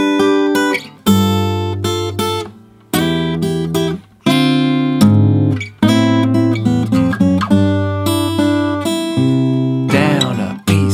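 A fingerstyle guitar plays the chord-melody intro of a song alone, ringing chords and plucked bass notes in a slow, clear phrase that pauses briefly between strums.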